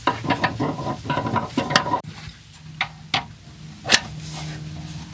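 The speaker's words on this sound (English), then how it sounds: "now we turn the screw in, and what that does is it cuts out a metal slug" A screw-driven knockout punch being turned by hand to cut a metal slug from an electrical box, giving ratcheting, grinding mechanical clicks up close, a dense run at first and then a few spaced sharp clicks.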